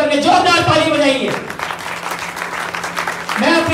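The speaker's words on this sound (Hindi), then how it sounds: "पूरी टीम एक बार खड़े होकर के जोरदार ताली बजाइए" A team stands and applauds at a sales celebration, the clapping swelling for about two seconds between stretches of someone speaking before and after it.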